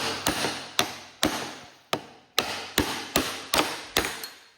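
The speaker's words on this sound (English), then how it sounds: "that washer is bent real bad there, so we're going to have to see if we can pound that out" Hammer blows pound a badly bent washer on a Cub Cadet 50c mower deck at a worn bearing: about ten sharp metallic strikes, close and loud, in an uneven rhythm with brief ringing after each hit.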